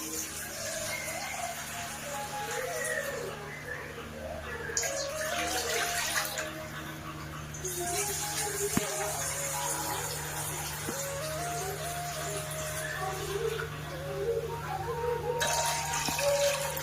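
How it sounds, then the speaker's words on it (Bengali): Water is poured into a wok on a gas stove for village-style chowmein, a soft, steady splashing and trickling that runs faintly and continuously with a few light knocks. "এবার কড়াইয়ের মধ্যে জল দিয়ে দেব।"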